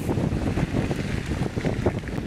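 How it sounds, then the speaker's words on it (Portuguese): Steady, roaring wind buffets the microphone, a dense low rumble that holds without pause for the whole stretch. "O vento já está chegando essa hora."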